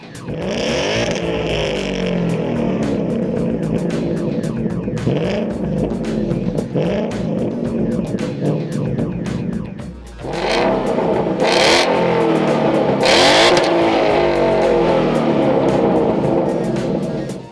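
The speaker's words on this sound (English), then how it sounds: "check out the quick comparison of the regular GT Sport Catback versus the GT350 style" A 2015-2017 Mustang GT exhaust revs repeatedly, comparing a GT Sport catback and a GT350-style quad-tip exhaust; deep rumbling blips rise and fall, with a brief pause midway before sharper, louder revs resume.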